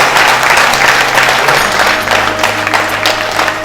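A large seated audience claps loudly and continuously at a spiritual discourse, a dense wash of hands with a low hum of the hall underneath.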